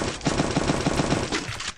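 Rapid automatic gunfire rattles in a dense, loud, continuous burst during a battle royale video game.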